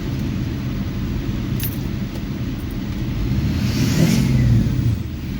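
A Ford 6.0 turbo diesel pickup, just fitted with a new turbo and oil cooler and given an EGR delete, idles loudly nearby with a deep steady rumble that swells into a brief rev near the end.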